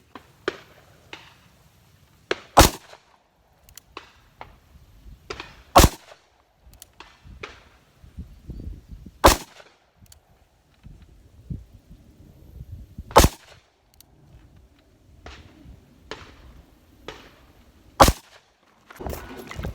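A Ruger Super Blackhawk Bisley revolver in .454 Casull fires light loads outdoors. About seven sharp, loud gunshots are spaced several seconds apart, and quieter clicks and handling noises fall between them.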